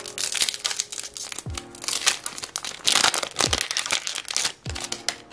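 An AFL TeamCoach 2021 footy card pack wrapper is torn and crinkled open up close, producing loud, irregular plastic crackles and rustles in repeated bursts throughout.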